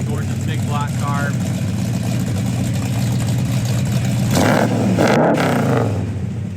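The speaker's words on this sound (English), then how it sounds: "Great sounding dual exhaust, show quality paint, show quality engine compartment." A big-block 1969 Chevelle with dual exhaust rumbles steadily at close range, its deep engine tone holding through the clip and swelling briefly in a louder rev near the end, with a voice talking over it.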